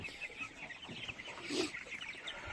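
Young tiger chickens about a month old cluck softly and repeatedly, a faint flock sound with no one talking over it.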